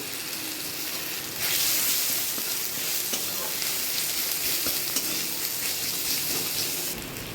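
Onions and tomato fry in a pan with a steady, close sizzle that swells louder after the first second and holds evenly, broken by faint stirring scrapes, with no talk.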